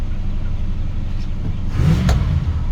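A 1977 Dodge Adventurer SE 150 club cab truck's 440 V8 engine idles with a steady low rumble, then revs briefly and settles back, loud and close.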